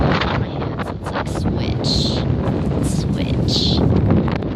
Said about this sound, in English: it is getting windy and a little bit cold on my hands